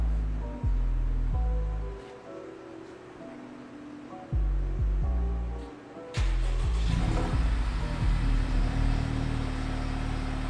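A car engine fires up after its exhaust has been refitted, with several loud low cranking bursts and catches before settling into a steady, loud idle rumble up close.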